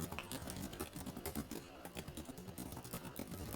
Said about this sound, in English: So let me type out GALLUP.